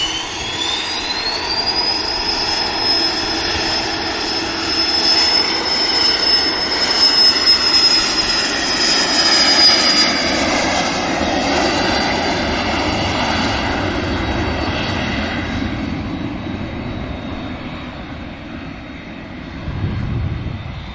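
A business jet on the runway at Manchester Airport gives off a loud, sustained turbine roar with a high piercing whine that slowly falls in pitch as the aircraft passes and recedes.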